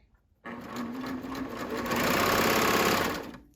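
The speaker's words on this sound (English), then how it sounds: "So I'm going to thread my clear elastic into my swim bottom. Oh geez, into my serger." A serger stitches clear elastic into a swim bottom, starting abruptly after a quiet moment and running as a fast, even mechanical whir that builds slightly before stopping.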